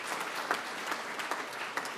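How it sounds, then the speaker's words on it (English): A seated audience at a recognition event gives a broad, even round of applause, a steady wash of clapping from many people with a few sharper claps standing out. "Let's give them a big round of applause as well."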